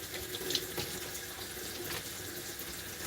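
Water runs steadily from a kitchen sink tap while dishes are washed, a faint, even hiss of flowing water with slight splashy variations and no talk over it.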